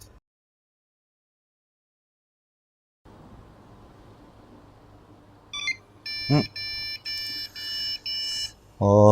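Server motherboard powering up: quiet fan hum starts after a silent stretch, then a short series of high electronic POST beeps at a steady pace near the end, with one brief knock in between.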